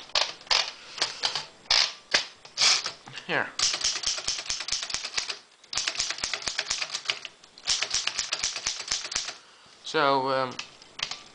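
A manual typewriter with a broken carriage return lever clacks in rapid runs of keystrokes with short pauses, ending in a ratcheting carriage sweep. A voice speaks briefly at the start.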